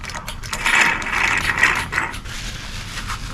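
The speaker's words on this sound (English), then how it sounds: "Next, vacuum out all the clutch fluid." A hand vacuum pump extracting hydraulic clutch fluid from a car's clutch reservoir clicks and rasps with quick ratcheting strokes, close and fairly loud, with a steady mechanical rhythm.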